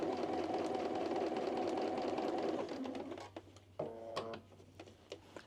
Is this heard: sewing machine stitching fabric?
yes